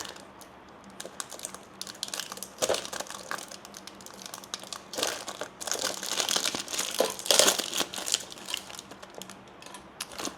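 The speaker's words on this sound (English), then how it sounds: "I'm just going to cut open the plastic." Scissors cut open the plastic packaging of a Kodak Charmera camera, making close crinkling and crackling with quick snipping clicks, busiest in the middle, with no talk.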